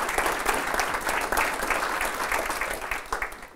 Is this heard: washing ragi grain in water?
no